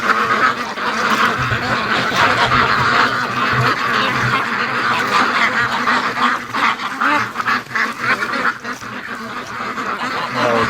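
A flock of free range ducks quacks busily and continuously up close, many overlapping calls in a noisy, lively chorus.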